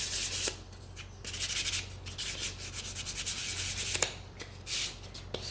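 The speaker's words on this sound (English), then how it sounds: "I'm just gonna give these a sand." Close sanding on pumpkin scarecrow craft pieces, with short scratchy rubbing strokes repeating in an uneven rhythm and brief pauses between them, and no talking.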